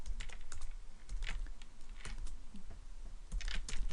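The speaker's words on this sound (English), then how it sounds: "So let's go ahead and type script" Computer keyboard keys tapped in quick irregular bursts while code is typed, close and fairly quiet, with short pauses between clusters of keystrokes and no talking.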